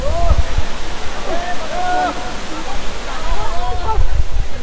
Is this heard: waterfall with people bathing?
yes